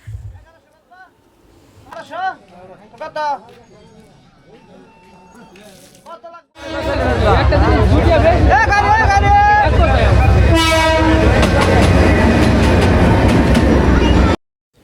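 A train thunders loudly past a roadside weekly market beside the railway line in Bangladesh, arriving abruptly after quieter market chatter and voices, then rumbling and clattering steadily close by until it cuts off.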